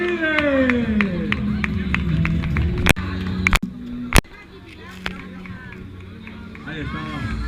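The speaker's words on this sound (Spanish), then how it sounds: "Ahí está, fuerte aplauso para ellos." A crowd claps and cheers at a 20K race awards ceremony in Siete Aguas in a noisy, echoing space, with a few sharp knocks and bangs cutting through the steady applause.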